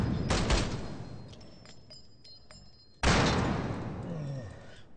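Gunfire in the video game Escape From Tarkov: a quick burst of sharp shots early on, then a single loud, close report that rings out and slowly decays.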